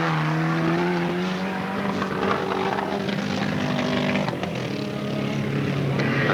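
Race cars pulling away together at the start of a race at Alwalton Raceway, a loud roaring pack of engines revving and droning close by, rising and falling pitches layered continuously without talk.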